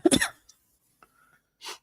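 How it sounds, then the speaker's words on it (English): A single harsh cough bursts out close to the mic, then near silence with a faint click and a brief breathy exhale at the end. "I genuinely needed to cough though."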